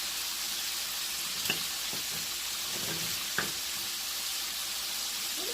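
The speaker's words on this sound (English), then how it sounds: "So I just take my corn, I add it to my pan" Frozen corn sizzling and frying in butter in a skillet, a steady close hiss with a few soft scraping stirs and clinks.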